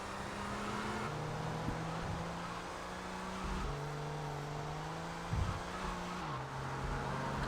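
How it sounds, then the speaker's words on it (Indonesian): A car in GTA Vice City drives along with a continuous engine drone that shifts pitch as it accelerates and changes gear, with occasional tire noise and game effects over a busy background. "Mobil ini kencang tapi cepat juga rusaknya guys ya."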